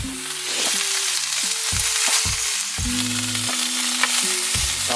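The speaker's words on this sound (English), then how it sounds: "These patties are now ready to flip" Rice burger patties sizzling in a frying pan, a loud steady close-up crackle that runs throughout, with low tonal background music under it and no talking.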